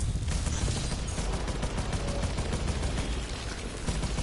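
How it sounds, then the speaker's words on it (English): Weapons firing nonstop at sharks in a VR game, a dense, loud barrage of shots and booms that carries on without a break from start to finish. "If it moves, shoot it!"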